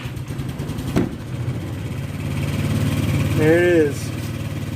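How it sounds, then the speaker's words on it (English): A vehicle engine idles high just after starting, a steady mid-pitched hum running throughout, with someone speaking briefly over it. "Now, of course, she'll idle high for a little bit."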